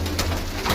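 Pigeons cooing on a rooftop where a flock is kept, a soft low coo heard briefly and fairly close.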